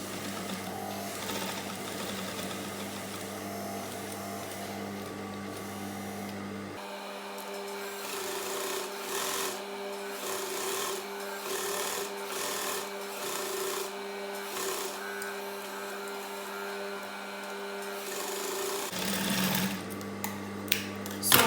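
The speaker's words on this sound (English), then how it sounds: "I'm going to go over this sewing with the machine over like this, just a little bit to hold it together" Sewing machine stitching over a female shirt collar to hold it together, a steady mechanical whirring hum running in long continuous bursts with brief pauses and fabric handling, close and moderately loud.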